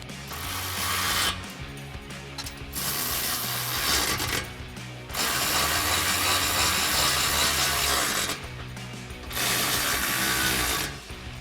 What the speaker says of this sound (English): tighten down all of our combo bolts, again using our 13mm socket and our ratchet